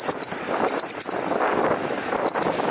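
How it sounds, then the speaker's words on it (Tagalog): A bicycle bell rings in a few quick bursts during an early-morning ride, with wind rushing over the microphone and road noise underneath. "Pati yung bell natin."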